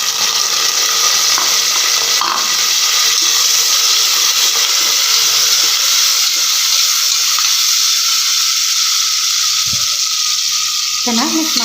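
Chopped onion sizzling in hot oil with cardamom for mint pulao, a loud, steady close-up hiss throughout with faint stirring scrapes near the end.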